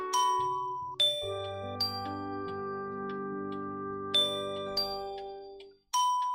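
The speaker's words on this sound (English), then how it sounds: "firstly, you need to ring the bells" Bright bells chime a slow melody in a children's fairy-tale setting, each struck note ringing and overlapping into a sustained shimmering wash, with fresh strikes every second or so and no voices.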